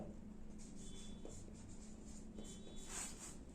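Pen writing an answer on paper during a Hindi-medium class 10 arithmetic progression lesson, a steady faint scratching that runs continuously and quietly throughout.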